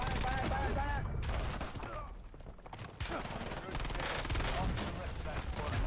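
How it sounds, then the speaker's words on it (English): Gunfire rings out in the Call of Duty Rebirth Island battle royale, with loud, dense shots and bursts in a busy game mix that runs almost without a break. It grows briefly thinner around the middle, and voices talk over it. "Somebody sniped us."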